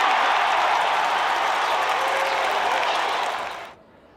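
Fans cheering at a free basketball watch party in Golden 1 Center for a Kings playoff game, a dense, loud crowd roar of cheers and applause that holds steady, then cuts off sharply near the end.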